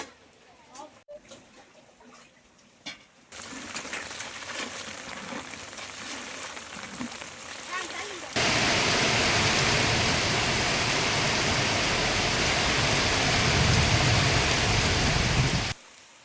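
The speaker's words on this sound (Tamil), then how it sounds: "1 மணி நேரத்திற்கு மேலாக மழை பெய்தது" A heavy, sudden summer downpour in Tamil Nadu builds from a quieter start into a dense, steady roar of falling rain. It grows louder partway through and then cuts off near the end.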